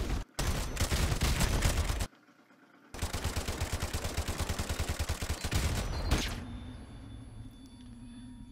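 Loud automatic gunfire rattles in Modern Warfare Remastered as rapid rhythmic bursts, broken by a short silence, then one long sustained burst that tapers into quieter ambience near the end.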